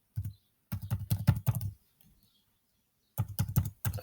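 Quick bursts of clicky keystrokes on a computer keyboard, close and clear, in two flurries separated by a short pause, with no talking.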